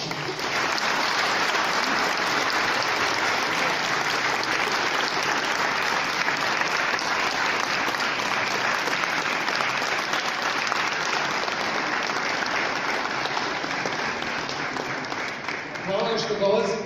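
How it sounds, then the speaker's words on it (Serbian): A hall audience at a public science talk in Belgrade applauds in loud, dense, sustained clapping. It keeps an even level for about sixteen seconds before thinning out as a voice comes in at the end. "da jednim aplauzom pozdravimo naše sagovornike, ali pre svega vas kao publiku koja dolazi"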